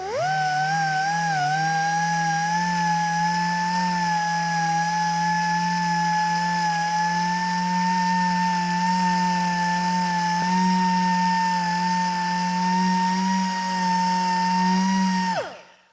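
A small car polisher runs steadily and loud on a panel of soft, thin clear coat that has been sanded with 2000 grit. Its whine holds nearly even for about fifteen seconds, then winds down at the end. No one speaks.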